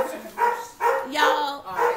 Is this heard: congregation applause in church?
no